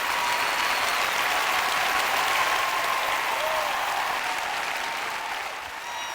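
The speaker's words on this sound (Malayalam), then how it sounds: "കുറച്ചുകൂടെ ഉച്ചത്തിൽ കൈയടിക്കാമല്ലോ." Loud, sustained applause from a large audience at a sermon, steady and dense for about six seconds before easing slightly at the end.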